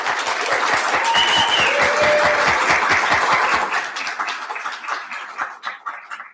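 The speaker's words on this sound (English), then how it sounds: "You've gotten the applause out of your system." Audience applause at a San Francisco congressional candidate forum for CA-11, a dense burst of clapping from a large room that holds loud and steady, then thins and tapers off into scattered claps near the end.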